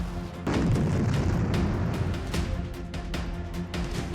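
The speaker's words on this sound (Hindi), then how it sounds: "धमाके के बाद की यह तस्वीर आप देख रहे हैं, जहां पर तेज धमाका, तीव्र धमाका होता हुआ नजर आ रहा है" A school blast in Delhi caught on CCTV: a heavy boom bursts in after a short quiet start, then a dense low rumble with scattered cracks and pops carries on loudly to the end.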